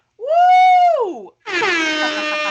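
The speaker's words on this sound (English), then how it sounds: "Yeah, I needed the air horn." Two loud air horn blasts at a classic game competition, the first bending down in pitch as it fades, then a brief gap and a second brassy, sustained honk.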